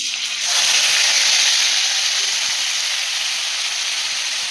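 Onion paste hits a hot pan for kofta curry, bursting into a loud, steady hiss of sizzling that starts abruptly and holds strong without pause.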